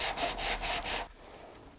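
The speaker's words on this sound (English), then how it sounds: "once you get it sanded down, if you can see it's kind of got that straight sanding marks all the way across" Sandpaper rubbing over the fin fillets of a high power model rocket, about four quick close back-and-forth scraping strokes followed by a short pause and then a faint tap.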